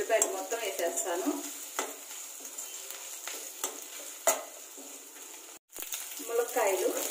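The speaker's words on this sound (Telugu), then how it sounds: "గ్రీన్ చిల్లీస్ ఎండు మిరపకాయ ఇవంతా ఒక ఏగినాక ఇంకొంచెం ఉల్లిపాయలు మొత్తం వేసేస్తాను" Onions and green and dried red chillies fry in hot oil in a pan, a steady close sizzle with scraping stirs and occasional clinks of a utensil against the pot, briefly cut off near the end.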